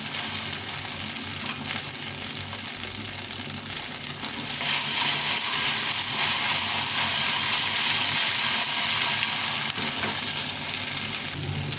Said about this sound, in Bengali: বেশ কিছুক্ষণ ধরে অল্প হিটে এটাকে ভালো করে ভেজে নিতে হবে